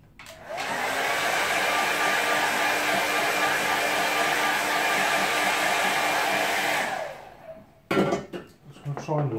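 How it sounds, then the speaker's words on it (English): A hair dryer blasts steadily for about six seconds to dry a watercolour painting of a park sunset scene, then cuts off, followed by brief handling clatter. "So next thing I'm going to do is give it a quick dry."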